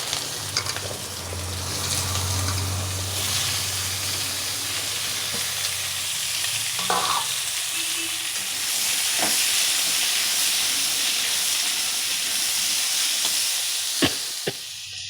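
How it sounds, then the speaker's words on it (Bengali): Chopped potatoes frying in mustard oil with whole cumin and dried chilli, a steady close hiss and sizzle with a low hum early on and a few sharp clinks of a utensil near the end. "একটু সর্ষের তেল দিয়ে দিচ্ছি গোটা জিরে শুকনো লঙ্কা দিয়ে দিচ্ছি কেটে রাখা আলু"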